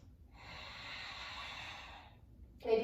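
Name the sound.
ujjayi breathing, air pressed out through the nostrils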